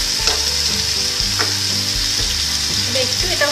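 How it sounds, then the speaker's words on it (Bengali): Raw jackfruit curry with potatoes sizzles in a pan as it is stirred and fried, a close, continuous crackle with rhythmic scraping strokes and no talking. "দেখুন আমি সমানে নাড়িয়ে যাচ্ছি এটাকে, যাতে ভালো করে মিশে যায়"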